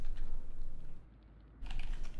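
Typing on a computer keyboard, a steady patter of quick key clicks that pauses briefly in the middle and then resumes, close and fairly quiet.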